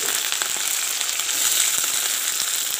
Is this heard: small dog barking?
no